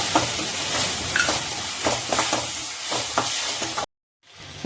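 Tomatoes fry with salt and spices in a pan, giving a steady close sizzle and hiss broken by repeated soft stirring scrapes. It ends in a short silence before a faint return.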